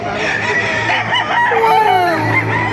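Chickens and roosters at an outdoor poultry market in Baliuag, Bulacan, kept under a tree: overlapping clucks and a long rising crow, loud and close, with a faint hum in the background.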